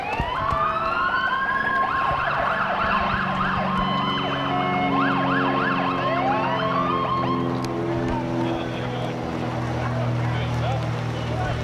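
A Lorain Fire Department emergency siren wails through its rising and falling cycles during a Memorial Day parade, loud and close, over steady crowd noise and low rumbling.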